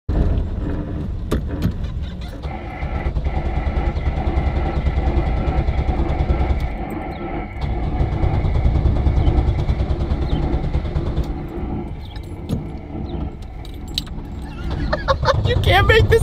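A fake Lamborghini replica's engine turns over and catches, a loud, steady rumble running for most of the stretch, dipping briefly, then rising again, with people talking over it.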